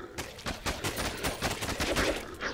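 Rapid bursts of machine gun fire in the zombie shooter game GIBS, dense repeated shots in quick rhythm at steady moderate loudness, with no talking over them.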